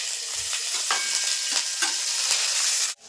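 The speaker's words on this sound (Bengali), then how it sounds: "আদা আর কাঁচা লঙ্কাটা একটু ভাজা ভাজা করে নিয়েছি" Chopped ginger and green chili sizzle steadily in hot oil, a dense continuous frying hiss broken by several soft stirring scrapes, close and fairly loud, with no voices, ending abruptly.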